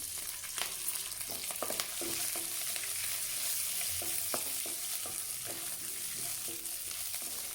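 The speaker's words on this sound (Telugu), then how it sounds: "ఈ పోపు కాస్త చిటపట్టలాడుతూనే" Tempering spices with green chillies crackle and spit in hot oil, sharp irregular pops over a constant sizzling hiss, close and busy.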